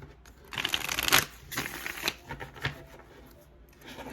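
Tarot cards are shuffled by hand in a few soft, riffling bursts with quiet pauses between, close up and faint, with no talking.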